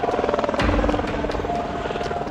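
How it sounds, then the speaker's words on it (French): A firefighting helicopter approaching to pick up a water bag at a large wildfire: a loud, steady rotor thump with engine buzz, close and continuous. "ça c'est l'hélico qui va venir prendre la poche d'eau"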